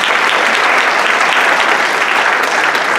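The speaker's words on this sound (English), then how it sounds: "If you could give him a round of applause, please." Audience applause at the Shaker Heights Middle School 8th grade Concert Winds concert, January 2020: a dense, steady wash of clapping from a full hall, loud and unbroken throughout.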